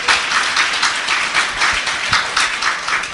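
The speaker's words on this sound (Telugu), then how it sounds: "గట్టిగా చప్పట్లు కొడదాం." A church congregation breaks into loud applause, many hands clapping in dense waves at close range.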